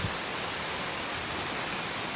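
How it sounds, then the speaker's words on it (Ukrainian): Heavy downpour of rain falling steadily outdoors, a dense, continuous hiss that stays loud and even throughout with no voices. "знову дощ."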